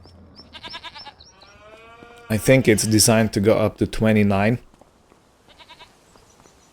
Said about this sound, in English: So we have 19 animals in this sheep pen right now.